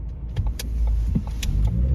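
Car cabin while driving on a suburban road, with low engine and road rumble and a few faint clicks and knocks from inside the vehicle.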